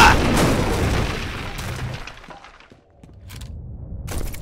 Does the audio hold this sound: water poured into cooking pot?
no